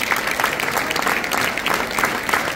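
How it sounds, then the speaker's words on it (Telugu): A hall full of students at Tandur claps loudly and steadily, a dense, close round of applause with a gently pulsing rhythm and no voices. "గట్టిగా చప్పట్లు కొట్టండి"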